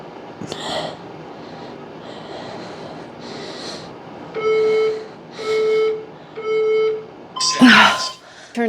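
A workout timer app sounds three evenly spaced sustained beeps near the end of a barbell leg session, amid heavy breathing and snorting, ending in a loud exhale.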